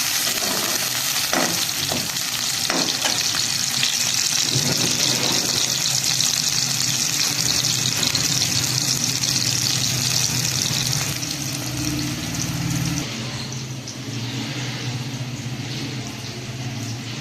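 Onions are frying in hot ghee in a pan, giving a loud, continuous sizzle and crackle that holds steady, then eases slightly toward the end. No one speaks.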